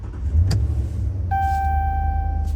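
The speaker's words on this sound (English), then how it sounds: "press the brake and start the vehicle" A 2009–2012 Dodge Ram 1500 starts with a brief starter burst into a low, steady engine rumble, while a dashboard chime sounds partway through.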